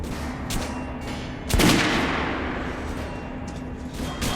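A single loud gunshot cracks out at a shooting range in Metro Last Light, with a booming echo that decays over a steady low hum of background ambience.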